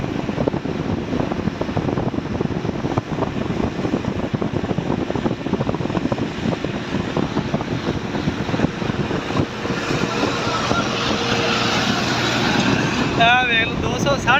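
A 260 tractor engine driving close by at speed, a steady loud droning rumble with wind buffeting throughout and a faint whine near the end.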